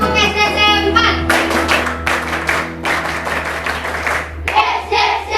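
A class of schoolchildren performs a rhythmic clapping chant in short bursts of patterned claps, with children's voices calling along between them in a classroom.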